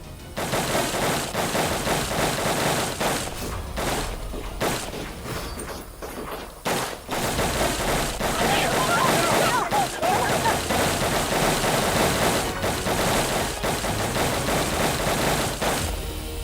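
Dense, sustained volley of gunfire from several guns opening up at once on a command, loud and close, with sharp repeated cracks and thumps packed tightly together over a heavy rumbling mix.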